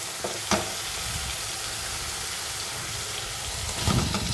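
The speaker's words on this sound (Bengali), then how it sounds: "যেহেতু বাটা মশলা দিচ্ছি, এটা কষাতে বেশিক্ষণ সময় লাগবে না।" Ground spice paste fries in a pan with an even, fairly quiet sizzle and crackle, with a brief clink near the start and a stirring scrape near the end.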